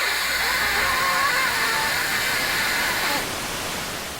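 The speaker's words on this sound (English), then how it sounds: "This is a unique specimen, not because it doesn't have sound, but because it outputs white noise." Harsh white-noise static from an LJN Video Art video game, a dense continuous hiss filling the whole clip at steady loudness, easing slightly toward the end, with no voices.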